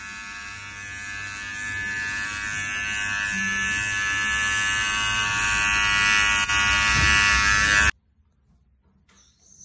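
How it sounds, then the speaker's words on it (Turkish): An electric hair clipper buzzes steadily and loudly while shaving hair around a hair prosthesis, growing slightly stronger for about eight seconds before abruptly switching off into near silence. "Üst bölgede çıkan saçlarımızı makine veya jiletle alabiliriz."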